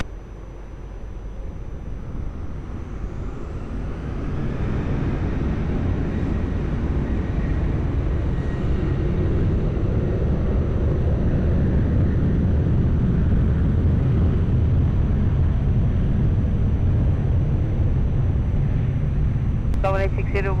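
KLM airliner taking off from runway 20 at Lisbon Airport: a broad, loud engine roar that builds over the first few seconds, then holds as a steady, heavy rumble to the end.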